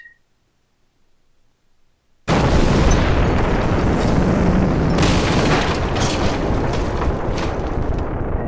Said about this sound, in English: And these guys are rolling in with their glide bombs.